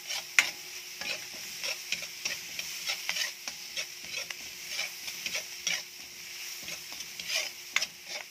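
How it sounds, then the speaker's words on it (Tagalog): Onions fry in butter in a pan, a soft steady sizzle broken by frequent light clicks and taps of a utensil stirring, close and fairly quiet. "Syempre butter yun. So, ayan, nilagay na yung ating sibuyas."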